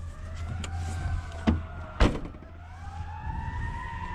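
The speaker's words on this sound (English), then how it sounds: "Every day, sirens." Sirens on a city street wail with rising and falling tones at a moderate distance, over low traffic rumble and a couple of sharp knocks nearby.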